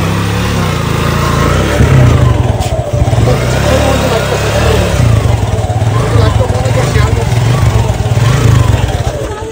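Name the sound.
motorcycle engine revving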